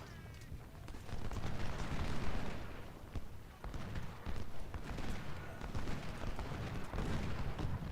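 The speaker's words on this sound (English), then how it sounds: "Okay, so our artillery is firing" Artillery in Ultimate General: Civil War booms repeatedly in heavy, rolling volleys, loud and layered with crackling musket fire, swelling and easing over several seconds.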